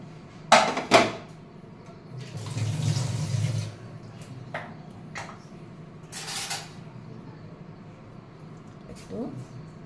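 Tap water splashes for a couple of seconds while a fish head is rinsed for a Bengali fish-head ghonto, with brief clatters of a bowl and a voice talking nearby.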